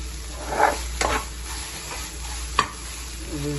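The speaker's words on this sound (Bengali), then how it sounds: "প্রায় হওয়ার পথে, অনেক সময় ধরে ভাজি করা হচ্ছে।" Fenugreek leaves fry in a pan with a soft, steady sizzle, punctuated by a few distinct scraping strokes of a stirring utensil, close and fairly quiet with no talk.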